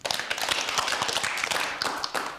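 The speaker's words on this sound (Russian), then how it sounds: "Хорошо, аплодисменты." An audience applauds after a talk on feminism, with dense clapping from many hands that stays steady and close, and no voices over it.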